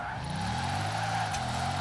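Bugatti Divo hypercar drifting in the video game Forza Horizon 4, a sustained engine drone with tire skid noise sliding through the whole short stretch, loud and close.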